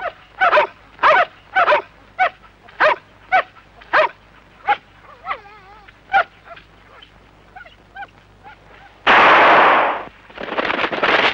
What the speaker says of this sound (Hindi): अमां यार इसके छोटे भाई के पीछे भी कुत्ते भौंकते हैं